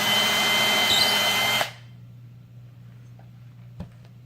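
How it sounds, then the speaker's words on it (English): A power drill drilling a pilot hole on a MillRight Carve King CNC machine whines loudly and steadily for a second and a half, then stops, leaving a low hum and a faint click. "So I'm about to drill a hole."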